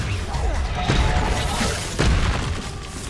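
A Confringo fire-blast spell from the Hogwarts Legacy video game, heard as dense booming explosions and crashing impacts that fill the whole stretch, loud and close, with a second burst partway through.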